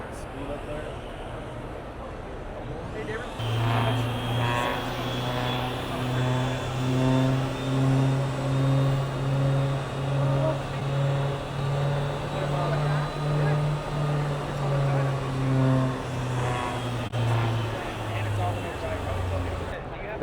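A Traxxas RC car accelerates and revs, its motor a steady buzzy drone that rises and falls in pitch for most of the stretch, loud and close.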